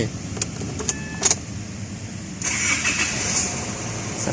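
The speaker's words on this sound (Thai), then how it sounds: "เดี๋ยวเราไปสตาร์ทรถกันนะครับ" A car's starter cranks and the engine catches at a garage during an air-conditioning refrigerant refill, after a few clicks and key sounds, then settles into a steady close idle.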